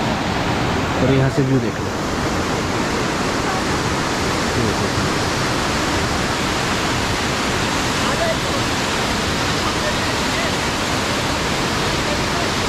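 A waterfall near the Lambi Dehar Mines area outside Dehradun roars in a steady, loud, unbroken rush of falling water, with someone briefly speaking over it near the start.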